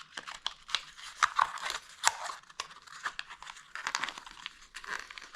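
An Apple Watch Series 9 box is opened up close, with crinkling, tearing and scraping of packaging in irregular bursts and a few sharp snaps.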